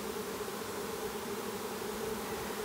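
A honeybee swarm fanning inside a box makes a steady, dense, close buzzing hum at low level, unbroken for a few seconds with no voices.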